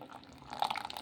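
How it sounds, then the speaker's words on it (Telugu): Thick batter ground in a mixie, for a semiya and cabbage tiffin, being poured into another bowl: a soft, brief wet pour and splatter, quiet and close. "ఇలా ఇంకా మిక్సీ పట్టేసుకున్నది ఇంకొక బౌల్లోకి అయితే వేసేసుకుందాము"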